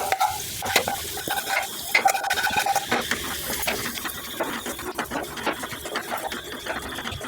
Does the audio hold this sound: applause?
no